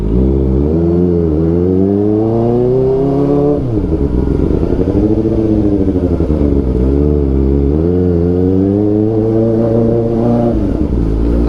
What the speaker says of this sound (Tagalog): Ang ingay ng motor natin.